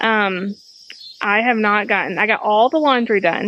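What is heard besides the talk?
crickets chirping loudly outdoors at night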